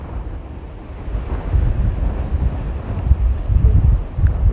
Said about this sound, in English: It's super windy all of a sudden.